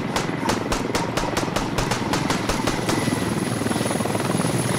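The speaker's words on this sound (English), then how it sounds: "Hey, there's a helicopter!" A helicopter passes close by, its rotor thumping in a fast, steady beat over a broad engine roar, loud and constant, with no voices heard.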